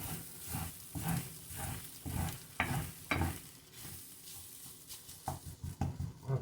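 A wooden spoon scrapes across a pan of browning flour while gravy is made, giving repeated rough strokes in an uneven rhythm at moderate volume, with no talking.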